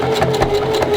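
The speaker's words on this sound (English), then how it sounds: "while I'm sewing this, I got to make sure that this material is flat." Sewing machine stitching flat material slowly, a close steady mechanical whir with a rhythmic needle clatter repeating several times a second.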